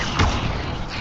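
A fire spell cast in a Hogwarts video game: one short, loud whooshing burst with a low thump near the start, then a steady rushing wash for the rest of the second.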